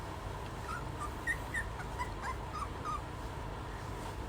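A young puppy gives soft, faint whimpers and small yips in short scattered bursts over a steady low background hum, quiet and close.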